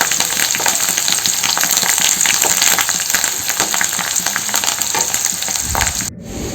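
Curry leaves crackle loudly in hot oil, a dense close frying hiss with popping spatter that runs almost to the end before cutting off abruptly.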